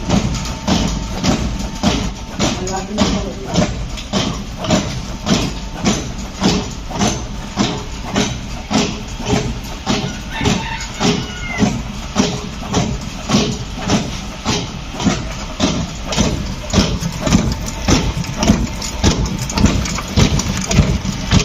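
A motorized digital dheki, a rice-pounding machine, runs steadily with a loud, rhythmic mechanical thumping and chugging, repeating about once a second over a continuous engine-like drone. No voices are heard.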